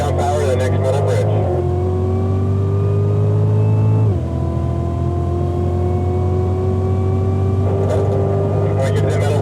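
A Cadillac CTS-V on the Circuit of the Americas track, engine held on throttle and pulling hard, its loud drone climbing steadily in pitch with a short dip midway, while a voice talks over it.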